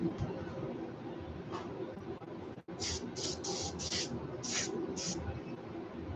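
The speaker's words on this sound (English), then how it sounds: "let's go ahead and spray the tips of the tails now" Airbrush spraying paint onto a rainbow smelt jerkbait lure in a series of short hissy bursts, about six quick sprays in a row after a steady background hum, close by and fairly soft.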